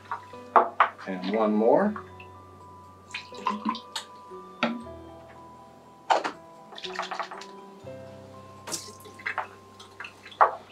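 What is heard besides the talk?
rinsing turbidity sensor with 600 NTU solution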